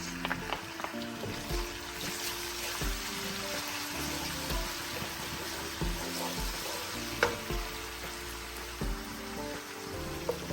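Garlic-ginger paste and green chili fry in a pan, producing a steady bright sizzle with scattered pops and the occasional knock of a spoon, close up and constant throughout.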